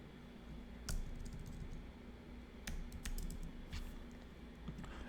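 Someone types on a computer keyboard in quick, light bursts of clicking, with a few sharper key strikes standing out over a quiet, steady room hum.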